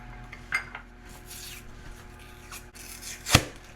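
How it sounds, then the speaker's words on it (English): A spoon stirs sugar, brown sugar and cinnamon together in a bowl, giving a few quiet, scattered clinks and gritty scrapes. "We combine the sugar, the brown sugar, and the cinnamon and stir it together and set it aside."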